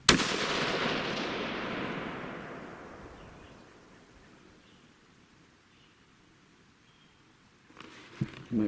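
A single 6.5 PRC rifle shot fired with a Browning Max Long Range at a distant target, a sharp loud crack followed by a long rolling echo that fades over several seconds, then faint handling noises near the end.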